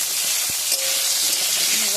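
Potatoes and green jackfruit fry in a pan with a loud, dense, continuous sizzle, close up and steady, with faint stirring knocks underneath.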